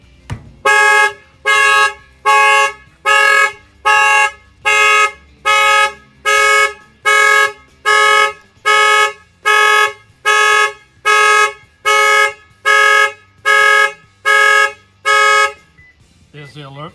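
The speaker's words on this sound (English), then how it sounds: "There's the alert real quick that the alarm went off" A Lexus IS 250's alarm horn blares in a steady series of about eighteen loud, evenly spaced honks, then stops abruptly, leaving a brief quiet moment.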